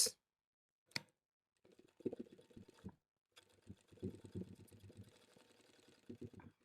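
A sewing machine stitches a 1 cm seam on a fabric kit case in short bursts of rapid mechanical whirring with pauses between, fairly quiet and close, with a voice speaking at times.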